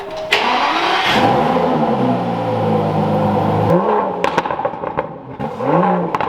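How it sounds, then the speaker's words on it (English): An Aston Martin DB11 engine fires up and revs hard nearby, climbing and dropping in pitch, then blips sharply several more times with a crackling exhaust. "This car sounds good"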